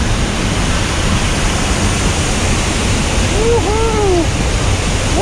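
A waterfall in Dalat, Vietnam, swollen after heavy rain, roars as a constant broadband rush, close and loud, with a few brief whoops from people over it.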